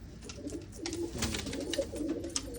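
Soft, throaty cooing from a large zone racing pigeon rolls in repeated low bursts, quiet and nearby against a faint hiss, with occasional clicks and no voices.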